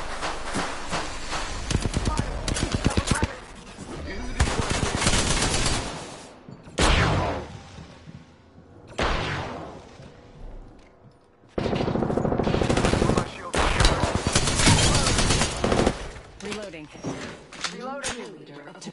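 Rapid bursts of automatic and single gunfire in the battle game Apex Legends, loud and close, broken by short pauses, with a voice talking over parts of it.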